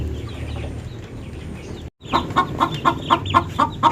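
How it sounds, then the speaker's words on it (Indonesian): A free-range village hen clucks repeatedly in a quick, rhythmic series of short calls, close and clear, following a moment of mixed farmyard noise. "ini ada suara petok-petok, alhamdulillah sudah ada yang mulai bertelur"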